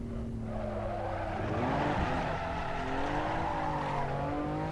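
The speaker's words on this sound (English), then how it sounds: "I'm coming off of the throttle when I recognize an oversteer situation develop." A race car's tires slide and squeal through oversteer in a racing sim, with a steady engine drone beneath sweeping, wavering tonal bands of tire scrub as the car loses and regains grip.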